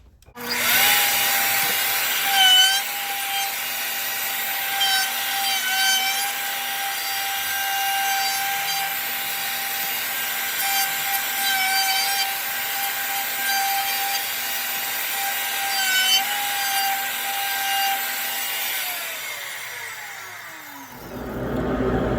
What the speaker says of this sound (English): Now we will router this same radius that we put on the faces around the entire handle.